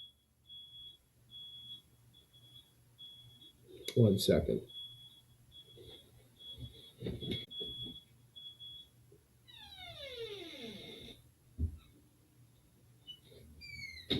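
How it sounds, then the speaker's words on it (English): A garbage truck's reverse beeper sounds at a distance, a steady train of thin high beeps that resembles a fire alarm, running behind talk and a few knocks before a descending whine. "That was a garbage truck, and I thought it was a fire alarm."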